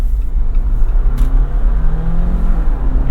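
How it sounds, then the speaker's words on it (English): A 2021 Jeep Wrangler 4xe with a 2-liter turbo hybrid powertrain accelerates on the road, a fairly loud, close low engine drone with rising tones and road rumble, heard from inside the vehicle without talk. "this electric powertrain paired with the 2-liter turbo really pulls"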